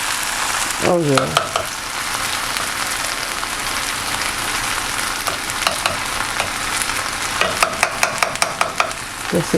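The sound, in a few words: fish and potatoes frying in a pan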